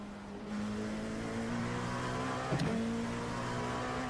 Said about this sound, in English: Take care, there's a car approaching. Faster car behind.